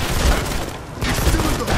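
Rapid gunfire in the shooter video game Modern Combat 5, loud dense bursts and booms filling the whole stretch, with no clear pauses between shots.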